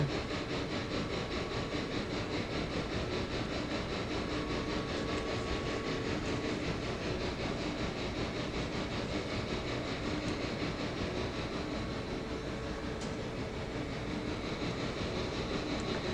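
A long freight train runs steadily on rails in the railroad simulation game Railroader. Continuous clickety-clack and wheel rumble drone on under a constant engine hum, with no talking.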